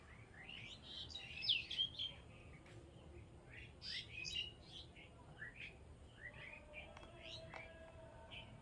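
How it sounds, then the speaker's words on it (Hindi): Small birds chirp and tweet in a village garden with a lemon tree, bright scattered calls near and far over a hushed background, with a few louder bursts early on and faint talk underneath. "चिड़ै चुनमुन सब चहचहा रहल अछि।"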